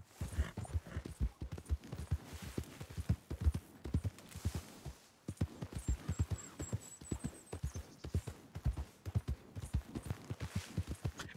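Horse hooves clip-clopping in the video game Red Dead Redemption 2, a steady close rhythmic trot running the whole time with a faint whinny-like tone partway through.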